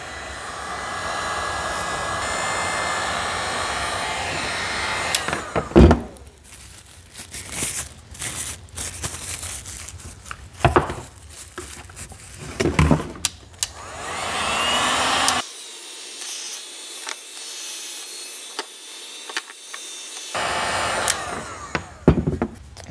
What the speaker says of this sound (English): heat it up and melt it down to the plastic.